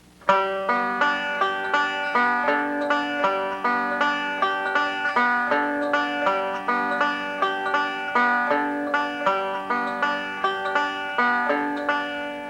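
Solo five-string banjo picks a bluegrass roll in which the thumb hits the third string first and the fourth string on the next-to-last note, a quick, even cascade of twangy plucks repeating for many cycles, close and unaccompanied.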